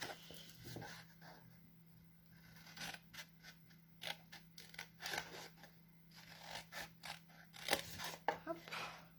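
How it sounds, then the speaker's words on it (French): Scissors snip through material for a small Christmas table bag, a series of crisp, close cuts in irregular bursts over quiet background hum, with faint talk nearby. "Ce que je vais faire, c'est de couper ici."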